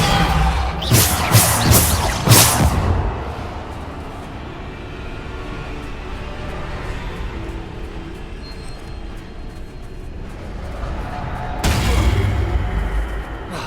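Booming blasts and crackling impacts of the Bombarda explosion spell in Hogwarts Legacy, one loud flurry near the start and another near the end, with calmer rumbling between.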